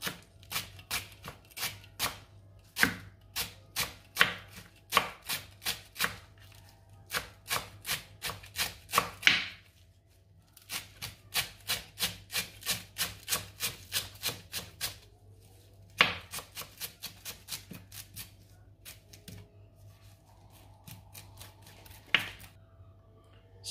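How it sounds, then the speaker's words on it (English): A knife chops fresh coriander on a cutting board in fast, crisp runs of close taps, pausing briefly between bursts and resuming, with no voices over the steady chopping. "I'm gonna chop some fresh"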